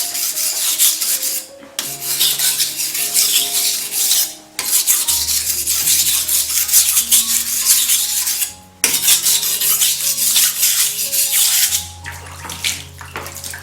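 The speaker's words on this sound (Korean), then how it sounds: "살 갈리는 게 약간 거칠게 좀 소리가 나죠?" A kitchen knife blade scrapes back and forth across a 600-grit whetstone in long, gritty rasping strokes with brief pauses between passes, close and fairly loud.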